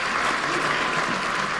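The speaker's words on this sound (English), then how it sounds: "Another warm applause for the CEO Kenya." A crowd at Kenya Innovation Week 2023 gives a steady burst of clapping. The applause is loud and dense and lasts the whole moment.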